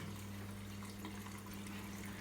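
Water streams steadily into the drum of an IFB 8 kg front load washing machine, a constant hissing flow over a low machine hum.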